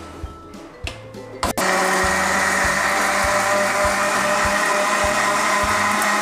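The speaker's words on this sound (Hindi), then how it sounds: "अब हम ब्लेंडर को चलाते हैं।" A few soft clicks and knocks, then an electric blender blending mint leaves and lemonade switches on and runs loudly with a steady high whine and rhythmic low pulsing.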